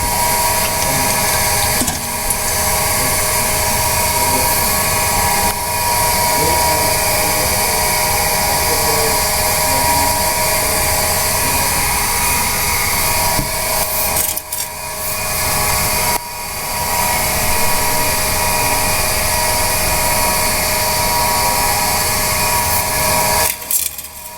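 A loud, continuous engine runs rough after an oil change to Castrol GTX, with a harsh, rattly roughness, steady throughout with a few brief dips, no voices.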